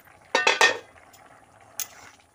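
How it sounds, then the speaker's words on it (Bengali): A metal lid goes onto a cooking pot of mixed vegetable curry with jackfruit seeds, potato and papaya: a quick pair of close clanks, then a lighter single clink a moment later in a quiet kitchen. "ঢাকনা দিয়ে দেব।"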